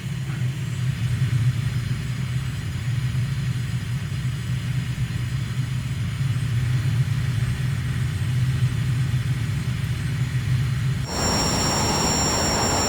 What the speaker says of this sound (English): this is actually a fairly loud aircraft